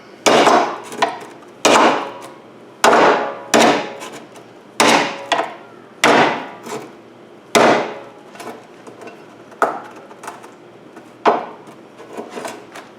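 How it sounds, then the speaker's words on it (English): A flathead screwdriver stabbed repeatedly into a metal can near its edge, about a dozen sharp, close thuds at an uneven pace, each fading quickly before the next. "So you're just going to have to stab it near the edge."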